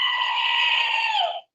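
A single long, loud, close bleat from a goat, held steady for about a second and a half before cutting off abruptly.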